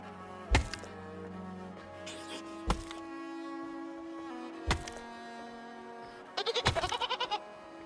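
Goat bleating in a video game, a few short bleats among hollow thunks and knocks over a soft tonal music bed, ending in a louder burst of rapid bleats.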